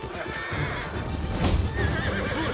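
In the Ghost of Tsushima Iki Island expansion, a horse charges with rapid clip-clopping hooves and lets out a loud whinny, with battle sounds mixed in and someone talking over it.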